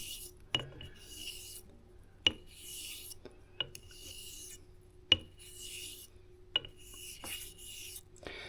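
A straight razor is honed on a Kotakul sharpening stone in quiet, even rasping strokes, each swept pass ending in a crisp tick, repeating about every second and a half, close and alone.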